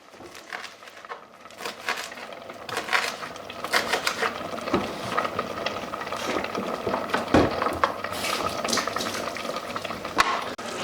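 A knife chops cavolo nero kale on a board into small pieces, with irregular clusters of crisp taps and thuds, close and moderately quiet, continuing throughout with brief pauses.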